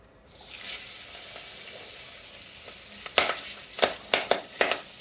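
Steady hiss of cabbage frying in hot oil, followed by several sharp scraping clatters from stirring near the end.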